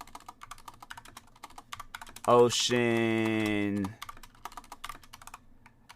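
Rapid, light clicking of typing on a computer keyboard runs quietly throughout, with a voice briefly speaking over it near the middle.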